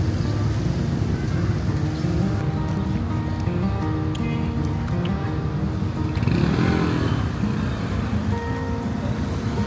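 Dense engine drone and traffic noise at a vast multi-storey motorcycle parking area outside a large Taiwanese-owned factory in Vietnam, continuous throughout, with one louder swell passing near the middle.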